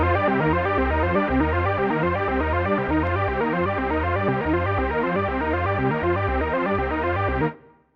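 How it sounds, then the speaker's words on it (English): A Kontakt synth arpeggiator runs rapid, steady 16th-note patterns, loud and continuous with a rich bass and mid tone, and stops abruptly just before the end, leaving a brief tail. "So this gives us an arpeggiator."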